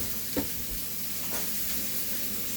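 Beef roasting hot in a pan gives a steady, close sizzle with a couple of brief soft knocks, continuous and without talking.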